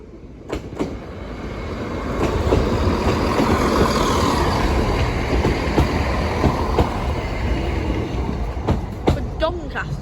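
A train rumbles past the Sleaford East level crossing, a loud close roar of wheels and rail noise building after a few seconds and holding, with sharp clicks and squeals over it.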